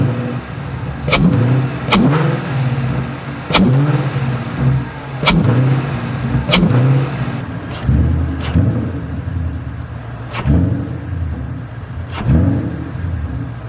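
Ford Mustang GT V8 fitted with a large PMAS hot-air intake, revved repeatedly from idle in short, loud bursts roughly every second or two, close up with no talking.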